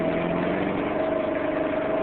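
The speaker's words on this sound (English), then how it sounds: "the ignition wires, spark plug wires are a bit wet and they're arcing, so we got a misfire, possibly 2 cylinders" A 1994 Chevy Cavalier with a 2.2 engine idling roughly with a misfire from wet, arcing spark plug wires, a steady close mechanical drone with an uneven pulse throughout.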